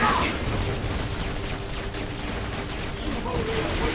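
Infantry gunfire in the real-time strategy game Dawn of War III, a thick, continuous rattle of overlapping rifle shots and dull impacts at steady volume across a large battle, with a battle cry heard up front.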